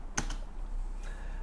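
Computer keyboard typing in a short burst, a few close crisp key clicks near the start and another soft tap about a second later, otherwise quiet room tone.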